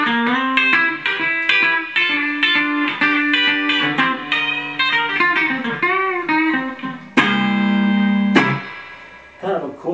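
A Gibson BB King Lucille electric guitar set to a Varitone tone plays a clean melodic run of plucked notes, then holds a long sustained chord before it fades, with no voice over the playing.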